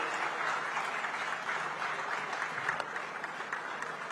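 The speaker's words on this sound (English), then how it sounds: "Ladies and gentlemen, this is time for a big round of applause." A large audience at the Pravasi Bharatiya Divas gathering claps in steady, sustained applause that holds at an even level throughout, a dense wash of hand claps heard from within the hall.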